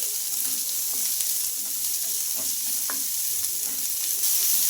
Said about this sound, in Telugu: ఇంకా అలాగే చిన్నగా కట్ చేసుకున్న పచ్చిమిర్చి ఆనియన్స్ ఇవన్నీ వేసుకొని కొంచెం లైట్గా ఫ్రై చేసుకుందామండి